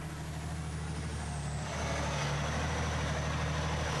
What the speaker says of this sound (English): The truck moves along at a snail's pace.